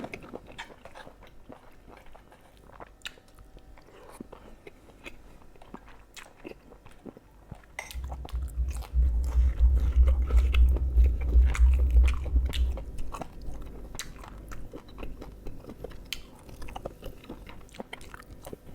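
Close-up chewing and crunchy biting while eating rice with Thai chili paste and fresh vegetables, repeated moist mouth sounds throughout, with a louder low rumble of heavier chewing in the middle stretch.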